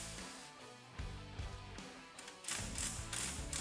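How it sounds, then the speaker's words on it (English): Ratchet working the three 13mm top strut bolts on a 2016 Camaro SS during a lowering spring install, a close run of quick mechanical clicks and metallic taps that grows busier and louder toward the end, with no talking. "Now we're going to remove the top strut bolts. There will be 3 13mm bolts."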